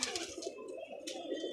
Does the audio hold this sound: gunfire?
no